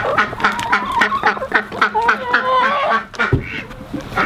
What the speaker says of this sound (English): Some of the ducks don't like to use the ramp.